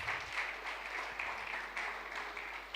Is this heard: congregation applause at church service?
yes